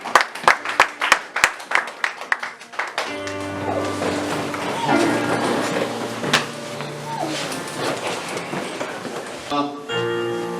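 A church congregation claps in loud, uneven bursts for a few seconds, then the applause gives way to sustained, tonal music filling the room.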